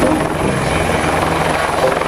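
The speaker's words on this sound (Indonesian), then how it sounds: "Yang ini ada helikopter." Toy helicopter whirring steadily and loudly, a constant buzzing rotor drone that holds without pause for a couple of seconds, close by.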